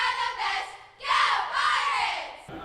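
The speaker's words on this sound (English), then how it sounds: "Could they crank out a cheer?" A school cheerleading squad chanting a cheer together, loud and close, in two sustained bursts of massed young voices with a short dip between.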